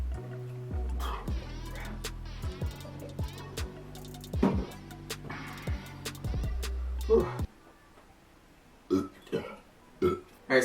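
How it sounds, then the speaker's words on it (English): After chugging a 2.4-litre bottle of Diet Pepsi, a person lets out a string of loud, close burps, several long drawn-out ones at first, then short separate bursts with quiet gaps and faint clicking between. "I have the weakest burps ever"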